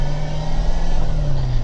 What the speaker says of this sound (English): the whole point is to show you that the car actually runs and drives